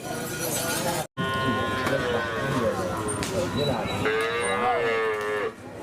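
Cattle mooing repeatedly at a bull-racing (karapan sapi) practice field, loud and close, with long drawn-out lows over a busy crowd of voices and background chatter.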